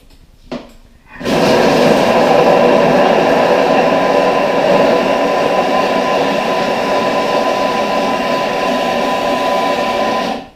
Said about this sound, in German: Da steht Spatel einsetzen und während sich das Messer dreht, den ein bisschen bewegen.